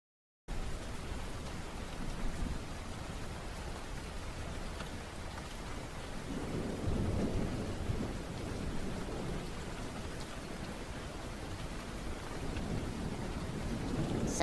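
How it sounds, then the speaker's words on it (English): A heavy rain and thunder sleep recording plays as a continuous, dense rush of rainfall, with low rumbling swells of thunder rising in the middle and again near the end, no voices. "heavy rain and thunder sounds for sleeping"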